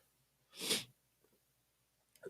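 A single sharp sneeze bursts out close by, then quiet breathing follows in an otherwise silent room.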